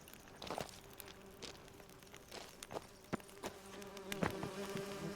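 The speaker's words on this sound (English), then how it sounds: "Not the bees!" Buzzing of bees or similar insects in The Witcher 3 game, a steady droning hum with scattered clicks and footsteps, fairly faint, no talk over it.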